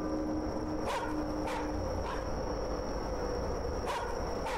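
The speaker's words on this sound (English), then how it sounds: "Who strapped a megaphone to that dog's throat?" A dog barks loudly in The Karaoke video game, several sharp barks spaced irregularly over steady background noise, close and prominent.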